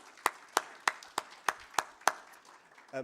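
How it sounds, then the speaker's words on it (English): Seven sharp claps of applause at a fertilizer organization's rebranding and website launch ring out at an even, steady pace, about a third of a second apart, followed by a brief low rumble at the end. "Another big round of applause."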